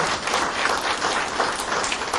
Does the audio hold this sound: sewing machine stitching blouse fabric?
no